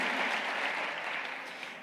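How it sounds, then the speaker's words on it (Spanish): A church congregation applauding the Lord during a service in Cali; faint, even clapping from a distance that slowly fades. "Dale un fuerte aplauso al Señor"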